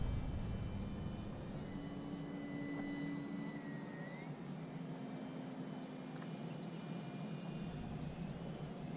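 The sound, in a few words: Maule M7 airplane engine at full speed in flight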